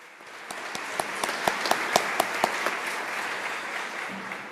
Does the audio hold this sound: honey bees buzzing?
no